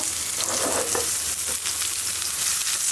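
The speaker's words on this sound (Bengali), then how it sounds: "সেই তেলে পেঁয়াজ ভেজে নিব" Sliced onions frying in hot oil for a mashed potato dish, a dense loud sizzle with a few stirring scrapes, steady and close throughout.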